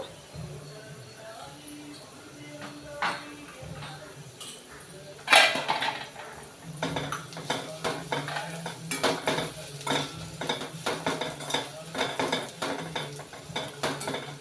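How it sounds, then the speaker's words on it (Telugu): Chopped ivy gourd frying in a pan with a metal spoon scraping and clanking against it, stirred in frequent irregular bursts that grow busier after a sharp knock partway through, with a soft sizzle underneath. "దొండకాయలు బాగా వేగినంత వరకు అలా వేయించుకోవాలన్నమాట"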